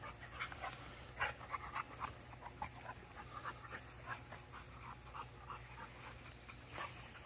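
A large six-month-old dog pants steadily up close, quick breathy puffs in an uneven rhythm with a few sharper bursts, no talking over it.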